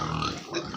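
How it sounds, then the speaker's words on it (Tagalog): A brief grunt from native pigs on a Fernandez farm, a short, close snorting oink over low farmyard background. "Ang daming mga baboy."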